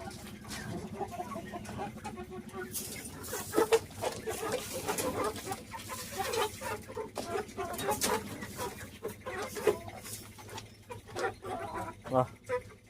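Chickens and guinea fowl cluck and squawk in a busy farmyard, with bird calls scattered throughout and a person talking intermittently over the flock.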